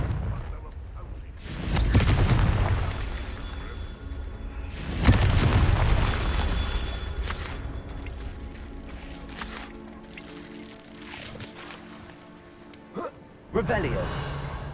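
Confringo fire-blast spells in Hogwarts Legacy burst as heavy booming explosions, several loud blasts spaced a few seconds apart with rumbling tails, as a voice speaks between them.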